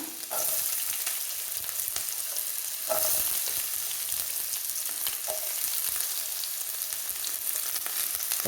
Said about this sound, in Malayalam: ഇഞ്ചിയും വെളുത്തുള്ളിയും നമ്മൾ അരിഞ്ഞു വെച്ചിരുന്നത് ഇനി നമുക്ക് കൊച്ചുള്ളി ഇട്ട് കൊടുക്കാം